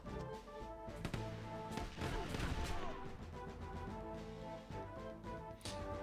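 Troops firing muskets in the video game Sid Meier's Pirates, a dense rattle of gunfire and crashes over steady game music, loud and continuous.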